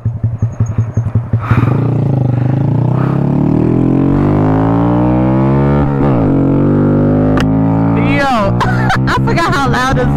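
Honda Grom motorcycle ridden up through the gears, its small single-cylinder engine revving loud and close after a few sputtering pulses at the start, with rising and falling pitch as it accelerates.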